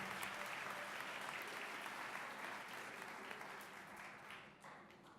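A crowd at a Martin Luther King Jr. tribute event applauds a dance program, steady clapping and scattered cheers that taper off toward the end, heard faintly from a distance.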